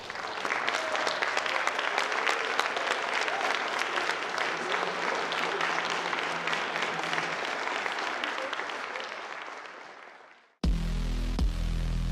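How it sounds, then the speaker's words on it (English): A large audience at a youth football awards show claps loudly and steadily for about ten seconds, close and dense, before it fades out. "give all of our supporters a big round of applause"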